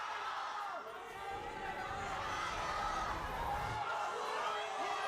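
Large esports arena crowd in Shanghai at an LPL League of Legends match, a continuous roar of chatter and cheering that swells in the middle, with commentary voices over it.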